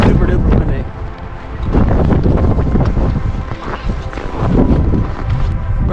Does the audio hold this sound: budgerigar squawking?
no